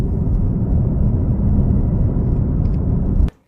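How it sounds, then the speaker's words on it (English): A 2025 Mercedes-AMG GT 63 coupe's V8 engine runs with a deep, steady rumble up close, loud and continuous before cutting off abruptly at the end. "This is a V8, one of those that's not afraid to exist in the era of electric cars"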